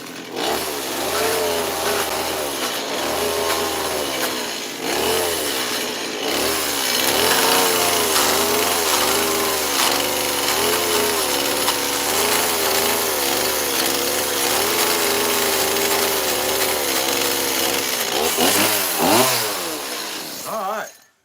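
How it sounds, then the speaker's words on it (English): Chainsaw carving wood into a bear figure, the engine whining loud and close in long sustained cuts with pitch rising and falling as the blade bites, brief dips near the start and a final drop as it shuts off. "the chainsaw carving part of this guy's done"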